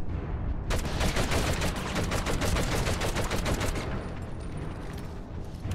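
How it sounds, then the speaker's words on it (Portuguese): Rapid bursts of automatic gunfire crackle continuously for several seconds, loud and close, sustained shooting in the PS2 game Medal of Honor: European Assault. "Dei tiro na cabeça do cara,"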